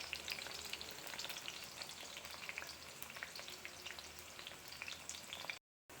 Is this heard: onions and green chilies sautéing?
yes